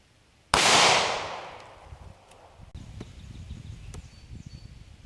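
A single loud, close gunshot from a .38 caliber pistol firing a copper plated bullet into clay soil, a sharp crack ringing out into a long decaying echo, followed by quiet outdoor rustling.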